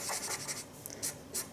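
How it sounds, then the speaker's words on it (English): A pencil scratches quickly across paper in short, uneven strokes, faint and close, with tiny pauses between the scribbles. "I'm writing really sloppily now."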